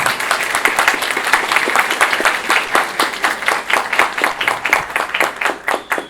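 An audience claps steadily at an academic conversation circle, a dense run of hand claps that keeps an even rhythm before thinning out near the end.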